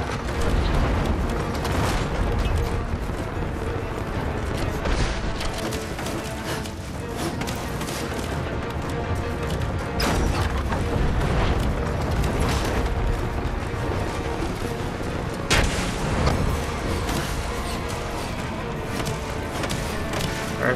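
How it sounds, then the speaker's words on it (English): Gunfire directed at the player in the video game Rise of the Tomb Raider, sustained and loud with crashing booms and bursts spread across the whole stretch, thick and continuous rather than isolated shots. "Who's shooting at me now?"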